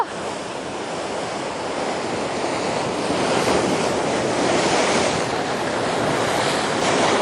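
Large ocean waves surge against a rocky shore during float fishing, a loud continuous roar of surf and wash with wind buffeting the microphone throughout and no voices.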